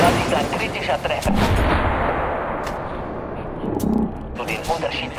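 A single loud gunshot lands as a critical hit in the shooter game Metro Last Light Redux, followed by a booming decay and a second shot later, with a voice talking over parts of it.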